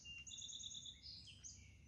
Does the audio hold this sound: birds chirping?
yes